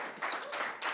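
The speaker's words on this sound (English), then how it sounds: "Thank you very much for clapping" An audience at a leadership talk applauds, the clapping brief, dense and fairly loud for under a second.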